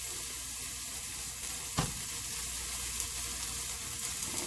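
Sausage sizzling as it is sauteed in a frying pan on a home stovetop, a steady close crackle throughout with one brief clatter near the middle.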